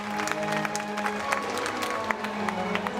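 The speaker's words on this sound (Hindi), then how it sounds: "बहुत बहुत तालियां।" Applause from an audience at a Shrimad Bhagavat Katha gathering in Surat, a steady patter of clapping over a sustained tonal drone, moderately loud and continuous throughout.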